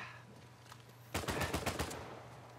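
Gunfire from an Uncharted 4 online multiplayer team deathmatch at an auction house: after a quiet stretch, a sudden close burst of about six rapid shots rings out, loud and alone.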